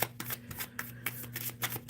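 Tarot cards are shuffled by hand in quick, rhythmic riffling bursts, close and crisp, with a steady low hum underneath and no talking.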